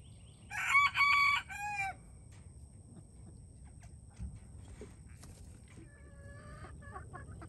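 Small mini bantam chickens on a free-range farm: a loud, close rooster crow early on, followed by softer scattered clucks and a few quieter calls from the flock against steady outdoor background noise.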